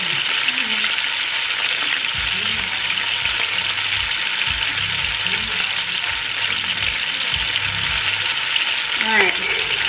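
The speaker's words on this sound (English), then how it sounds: "We are sizzling. We're going to sear it up on both sides." A keto roast sears in a hot pan with a steady, loud sizzle and crackle throughout, joined by scattered low clunks and scraping as it is moved around.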